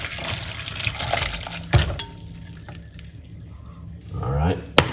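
Liquid poured off from a container at close range, a short splashing trickle with a brief burst near the middle and another gurgling pour toward the end.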